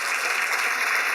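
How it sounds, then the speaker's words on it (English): Audience applause at a women's leadership breakfast, a dense, even burst of clapping from a crowd that fills the room briefly and steadily. "let's give a round of applause to Nancy and Lindsay"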